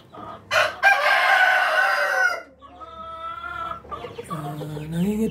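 A rooster crows loudly and close by, a long harmonic call, followed by chickens clucking and cackling among hens on a breeder chick farm, with no talk over it.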